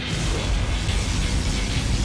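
A particle cannon blast in the video game Command and Conquer Generals, a heavy roaring boom with a broad, continuous rush of noise that stays loud and dense throughout.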